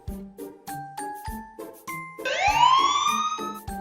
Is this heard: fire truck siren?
yes